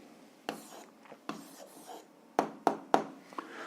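Writing out an answer by hand, soft scratchy pen strokes with a few sharper taps and clicks, close and intimate, with no talking.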